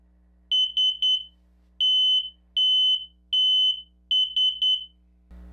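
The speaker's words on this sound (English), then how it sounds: "it operates similar to a smoke detector, but instead of detecting smoke, it's detecting moisture, it's detecting liquid" A water leak detector alarm with wet contacts sounds loud, piercing high-pitched chirps in clusters of one to three, spaced by brief silences, close and clear with no talk.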